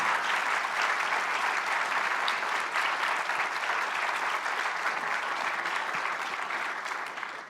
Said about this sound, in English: So please join me in a hearty round of applause.